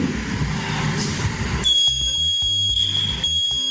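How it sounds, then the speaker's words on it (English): An electronic buzzer in a tunnel management system switches on partway through, a steady high-pitched tone over a pulsing beep, following a stretch of broad mechanical noise. "the buzzer will start buzzing"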